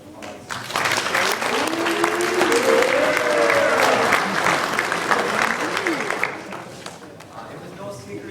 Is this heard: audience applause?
yes